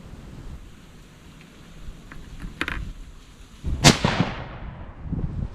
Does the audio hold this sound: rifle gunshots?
yes